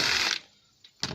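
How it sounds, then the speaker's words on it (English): Ratcheting wrench with a 17mm socket loosening a wheel on a 2003 Mercedes ML500 (W163), heard as a loud close burst of rapid clicking, a pause with a faint click, then a second short ratcheting burst. "I have this nifty little wrench."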